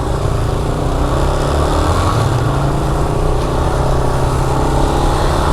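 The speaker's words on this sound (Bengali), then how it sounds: "সেই হচ্ছে শুভর বাইক যেটা নাকি ওর গার্লফ্রেন্ড থেকে গিফট পেয়েছে" A Yamaha R15M motorcycle outside the IDB building gives a steady, loud engine drone that holds unbroken and close throughout.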